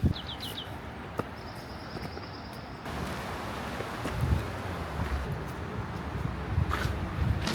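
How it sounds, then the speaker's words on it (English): Steady broadband wind noise rumbles against the microphone throughout, with a few faint bird chirps near the start and gusts growing stronger later. "Really windy and not sunny."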